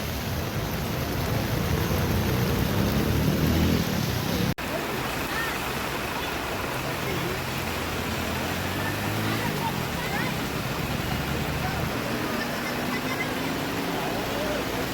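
Heavy rain hammers down at a bus stop in Sarvade, Ratnagiri, in the Konkan region, as a constant broad roar. A brief sharp break cuts in early before the downpour resumes unchanged.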